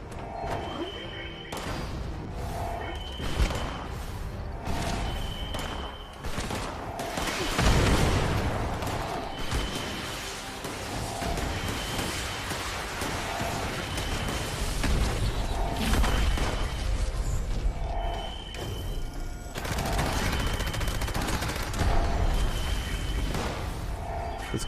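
Gunfire and explosive booms in Fallout 76, scattered across a busy, loud game soundscape with repeated tonal beeps and heavy impact bursts over several seconds.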